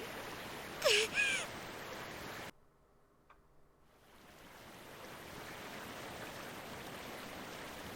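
A waterfall in the visual novel Muv-Luv photonflowers pours as a continuous broadband roar with a couple of bright chime-like tones early on. The roar cuts out to near silence briefly, then fades back in.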